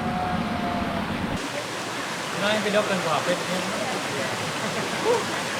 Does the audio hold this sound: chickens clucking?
no